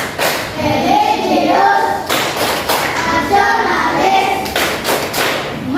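A class claps in a rhythmic patterned chant called Tepuk PPK, sharp bursts of hand claps alternating with voices chanting words in unison.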